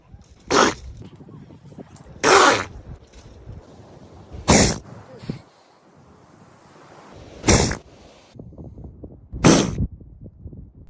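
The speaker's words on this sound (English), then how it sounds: "This is what a seal sneeze sounds like." A seal sneezes several times, each one a sharp, explosive burst spaced a second or two apart, close and fairly loud, with quieter snuffling noises in between.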